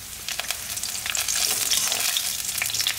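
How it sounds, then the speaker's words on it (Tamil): Ginger and garlic frying in hot sesame oil, a bright crackling sizzle close to the pan that swells and stays loud throughout. "இப்போ இதை நல்ல எண்ணெயிலேயே பொரிச்சிடலாம்."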